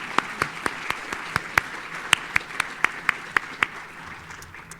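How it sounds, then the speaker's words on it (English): Sparse applause for advisory council members at an FHRI Fund open day, a dozen or so distinct claps in an uneven rhythm from a small audience, fairly close and fading out near the end. "I think we should give a round of applause to our FHRI Fund Advisory Council members who are here"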